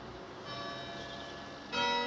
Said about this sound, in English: There goes the church bells.